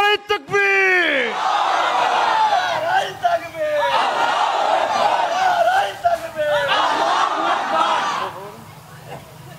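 A large crowd at a religious sermon roars a loud, sustained takbir chant in response, rising and falling in waves of massed voices for several seconds after a single shouted call.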